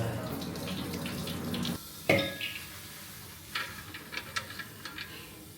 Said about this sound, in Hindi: जितना भी पानी है पूरा निकाल दो।